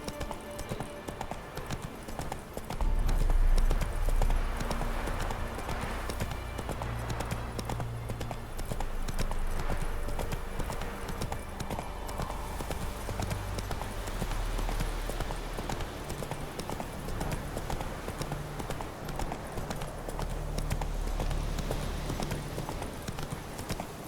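Roach the horse trots in The Witcher 3, hooves clip-clopping steadily under a continuous bed of game music and ambience, with the rhythm holding through the whole stretch.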